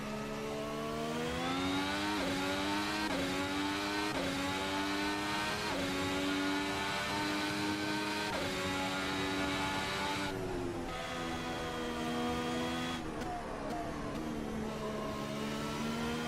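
A Volvo engine in the Assetto Corsa racing game revs steadily and climbs in pitch, its tone rising and dipping with repeated gear shifts, loud and continuous with no talking.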